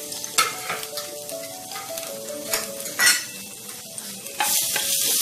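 Ginger garlic paste sizzles and fries in hot oil while a utensil clinks and scrapes against the pan as it's stirred, close up.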